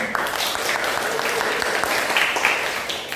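An audience at a constitutional debate applauds both the pro and contra teams, a sustained, even patter of many hands clapping at moderate loudness throughout.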